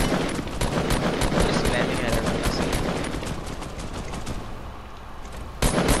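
Rapid automatic gunfire in a video game, a steady stream of sharp shots rattling on for several seconds, loud and dense, fading slightly before a fresh burst at the end.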